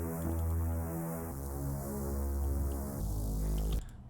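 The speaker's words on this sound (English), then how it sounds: "We also have this reese bass that comes in here" Reese bass synth from a future riddim track made in Ableton, built from a lightly detuned sine wave with unison and distortion: a thick, sustained low buzzing tone shifting between a few held pitches, loud and alone, cutting off near the end.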